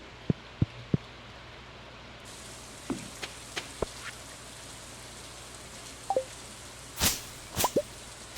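Sparse, gentle rain in the video game Stardew Valley: scattered soft plops and drips land one at a time over a quiet background, with a small cluster of louder patters near the end.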